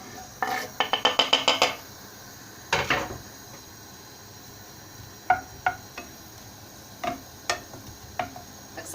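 Varenyky browning in hot oil in a pan, with a burst of rapid clinks and scrapes from stirring, then scattered sharp taps of a utensil against the pan over a faint sizzle.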